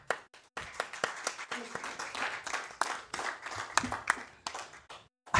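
Audience claps and applauds at a mayoral candidates forum in Surfside, a burst of many hands clapping close and fairly loud, with scattered talk mixed in.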